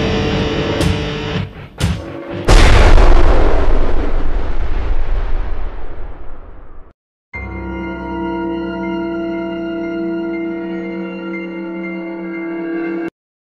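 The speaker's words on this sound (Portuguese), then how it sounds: "Mas então vai terminar em bomba nuclear." A nuclear bomb explosion sound effect opens with a few sharp cracks, then a massive, loud roaring blast that rumbles and fades over several seconds, followed after a brief gap by a sustained, eerie tonal drone.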